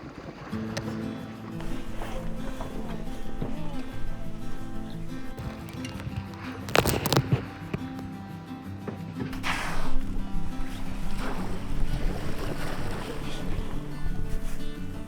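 A whale-watching boat's engine drones steadily on the water off Iceland, a continuous low hum with a brief louder rush midway and faint voices underneath.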